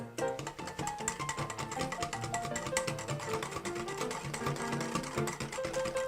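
An electric mixer whirs continuously and loudly, whipping egg whites into foam for a souffle cake, with a steady motor drone throughout and no talking.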